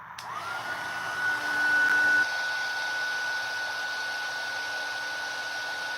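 A heat tool melts layers of embossing powder, blowing a steady loud whir with a constant broadband rush and a faint tone that steps down partway through, running alone without talk.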